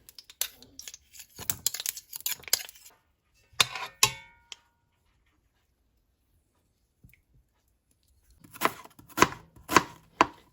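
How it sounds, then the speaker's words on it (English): A knife slices onions on a cutting board in quick bursts of crisp taps, with a long quiet pause before a final flurry of cuts, close by and with no talking. "then I will slice my onions that I will use it to fry the coconut oil a bit"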